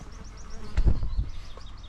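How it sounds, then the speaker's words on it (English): A wasp buzzing close by in the woods, a thin, wavering whine that drifts past alongside low rustling and a brief thump, with no talking over it. "Sorry, wasp."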